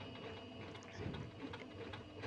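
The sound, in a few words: sewing machine stitching a rolled hem with hem foot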